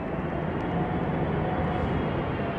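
A large airliner, a Boeing 787-10, passes at London Heathrow Airport in stormy Storm Darragh winds, producing a loud, dense, unbroken engine roar that stays steady and close for the whole stretch with no voices.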